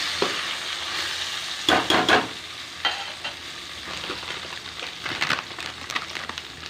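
Eggplant with turmeric frying in hot oil sizzles steadily while a utensil scrapes and stirs through it in a few short bursts, close up.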